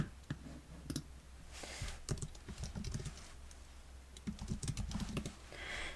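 Fingers type on a computer keyboard in quiet, uneven bursts of soft key clicks over a low steady hum, with no voice.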